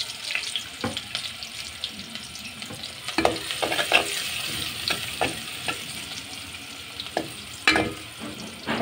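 Chopped onion and garlic sizzling in a pan, with a continuous hissing fry and irregular scrapes and clacks of a spatula stirring, close up and without any speech.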